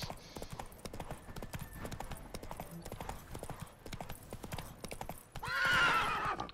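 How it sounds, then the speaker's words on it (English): Galloping hooves from the horse in The Witcher 3 video game, a steady rapid clip-clop close by, ending with a loud neigh, mostly alone with only slight talk in the background. "Run, Roach"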